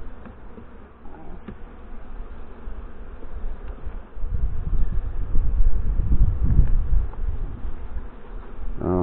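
Honey bees buzz around an open hive during an inspection, a dense, steady drone that swells louder in the second half, heard close with some wind and rustle.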